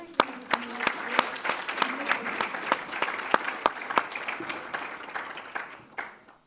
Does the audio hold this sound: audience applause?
yes